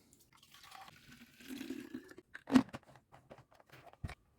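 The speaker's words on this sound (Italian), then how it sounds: "prendere un vaporizzatore o un nebulizzatore, andare a versare il contenuto all'interno" A homemade liquid plant remedy against aphids, mould and pests is poured into a spray bottle, giving a faint trickle followed by a sharper plastic knock and a few soft clicks, close by.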